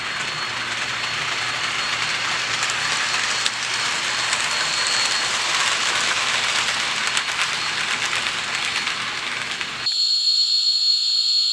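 Steam whistle sound from a TCS WowSound decoder in a Hornby A4 model locomotive, a steady hissing, airy tone held for about ten seconds before switching to a sharper, thinner whistle, with no talking.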